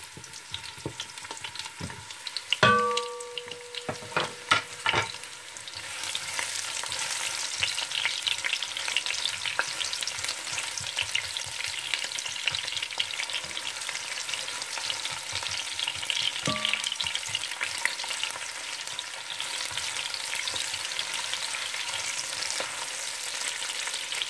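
Chopped onions sizzle steadily in hot sunflower oil for an oxtail soup, a continuous broadband frying hiss with a few stirring clatters near the start, close and moderately loud.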